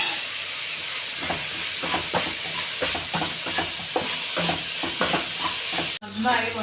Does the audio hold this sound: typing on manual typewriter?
no